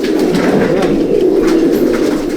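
In a loft, Andhra breeder pigeons keep up a steady chorus of deep rolling coos, loud and close, with several birds overlapping without pause.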